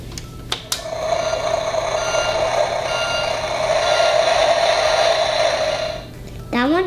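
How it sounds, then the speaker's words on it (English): Real garbage truck backing up, its reversing alarm beeping steadily for several seconds over a rumbling diesel engine, fairly close, followed by a short hiss or whine at the end. "That one is the sound of a real garbage truck."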